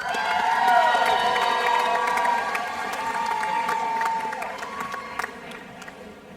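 At a university commencement, the audience applauds and cheers for graduating art students, a loud crowd roar with whoops and shouts over clapping that gradually fades.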